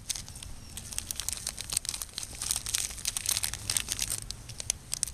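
A plastic bag holding harvested sesame seeds is folded to push the air out, giving continuous close crinkling and crackling with sharp bursts of rustle, fairly quiet and with no talk.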